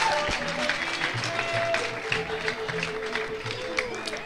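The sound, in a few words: crowd applause at a charreada rodeo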